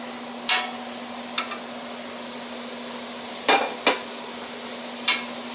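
Ground beef and pork sizzle steadily in a pan, a constant close frying hiss punctuated by five sharp clacks of a utensil stirring and tapping against the pan.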